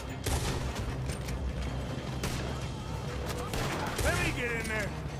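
Gunfire in the video game Red Dead Redemption during a robbery shootout, with loud dense bursts of shots mixed with shouting voices over a constant noisy background.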